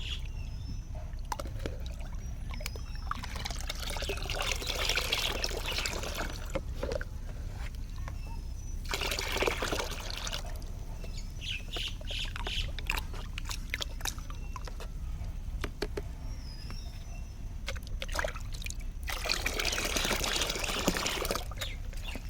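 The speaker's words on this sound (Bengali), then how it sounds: "এই সরষের খোলটা আমি এখন জলে পাতলা করে মিশিয়ে নেব।" Mustard cake fertilizer soaked earlier is stirred and thinned in water, giving intermittent wet sloshing and splashing bursts over a steady low background rumble, fairly close, with no talking.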